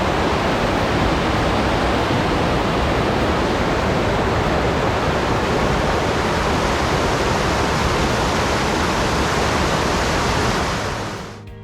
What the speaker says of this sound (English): The river's dropped, but it's still flowing pretty fast.